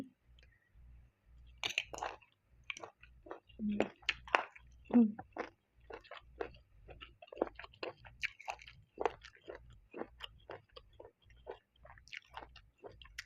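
Someone bites and chews puffball mushrooms from a bamboo-shoot curry up close, with irregular crisp clicks, pops and squishy chewing in quiet surroundings.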